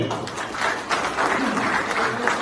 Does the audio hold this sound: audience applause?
yes